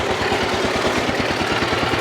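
An old DT 14 tractor engine runs close by, a loud, fast, evenly pulsing diesel thump with a steady rhythm and no voices over it.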